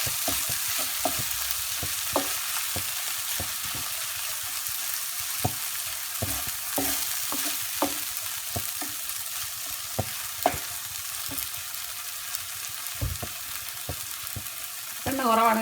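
Prawns frying in a pan for a Kerala-style prawn roast, a steady close sizzle broken by frequent scraping stirs and clinks of a spoon against the pan, with no talking.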